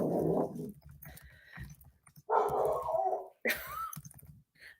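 A dog named Leo barks at a neighbor in a few loud, close bursts with gaps between them, some whimpering tones mixed in.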